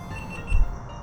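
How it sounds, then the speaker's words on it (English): A quick series of high electronic beeps from a GoPro action camera chirps over a low background hum, fairly quiet and close by. "Oh, my GoPro's beeping."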